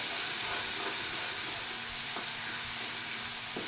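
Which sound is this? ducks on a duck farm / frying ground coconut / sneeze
frying ground coconut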